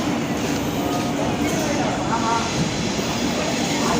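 Gandhidham weekly superfast express pulling out of platform 4 at a railway station, a steady broadband rumble of the moving train filling the whole stretch.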